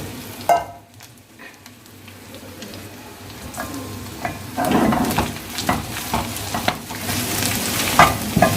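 A quarter kilo of fresh cut green chillies fry in hot oil with a close, continuous sizzle that grows louder partway through, broken by the scrape and clink of a stirring spoon against the pan.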